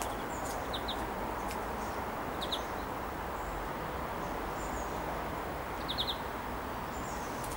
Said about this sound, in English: I can hear a greenfinch up the top of the tree and all.